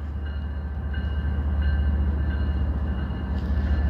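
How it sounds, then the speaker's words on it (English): A passing train rumbles steadily, loud and close, with heavy low-end roar and faint squealing overtones that stay constant throughout. "Alright, here's a train."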